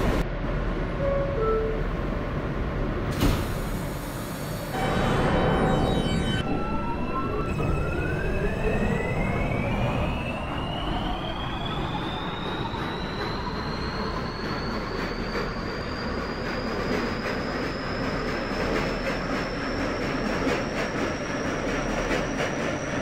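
Simulated R160A New York subway train on the R line running at steady speed, a continuous rail rumble with a rising electric motor whine that climbs and levels off, a brief loud burst early on, no talking.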